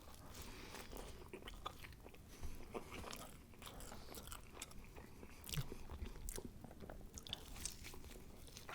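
Close, quiet crunching and chewing of doubles, a West Indian flatbread with chickpeas, eaten at a mukbang: irregular soft bites and mouth sounds, no talking.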